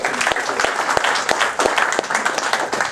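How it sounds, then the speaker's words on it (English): An audience at a political campaign gathering in Virginia claps in a dense, steady burst of applause that holds at full strength throughout. "Give him a round of applause."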